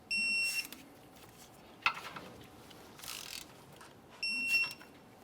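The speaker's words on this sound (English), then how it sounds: "Let's torque each one of these bolts to 83 foot-pounds." A torque wrench clicks and ratchets while brake caliper bolts on a 2001-2005 Ford Explorer Sport Trac are tightened: short bright mechanical clicks at the start and end, with a sharp snap and faint rattling between, quiet and close.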